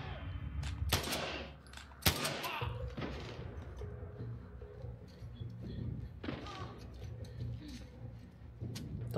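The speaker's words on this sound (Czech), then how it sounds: "Tam taky střílí ona" Shots ring out during a firefight in The Last of Us Part II, with a few sharp, loud bangs spread over several seconds against a low rumbling game backdrop and softer clicks.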